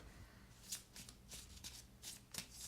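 A 1989 Wonderland tarot card deck rifle shuffled by hand, a quiet close-up series of quick riffling card flutters and soft taps over a few seconds.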